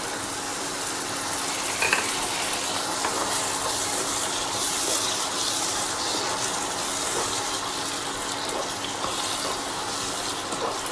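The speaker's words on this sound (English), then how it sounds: "I am adding 1 full glass of water." Water pours steadily into a cooking pan of okra gravy, a continuous splashing gush at moderate volume with no talk.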